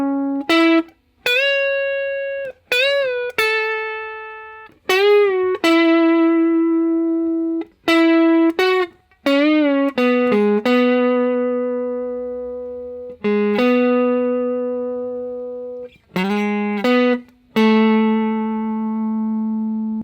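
Clean electric guitar plays the opening riff of a song, single notes and short bends in a slow, halting phrase with gaps between figures, clear and close with light reverb.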